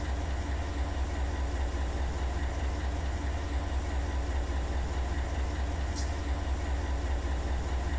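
A 9,000-foot CSX intermodal freight train rolls past as a steady, continuous low rumble with a broadband rail drone that holds even throughout, plus one brief high squeal near the end.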